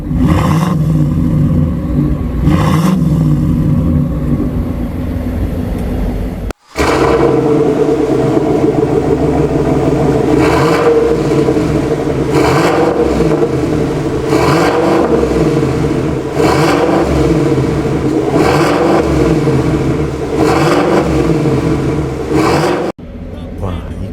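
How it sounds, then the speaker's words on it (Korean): Chevrolet Tahoe with a Brillante variable exhaust opened, warmed up and revved hard in repeated bursts, a deep heavy rumbling roar swelling and falling close by, with a brief cut partway and voices at times. "커다란 몸집에 맞게끔 배기음 또한 묵직하게 잘 나왔습니다."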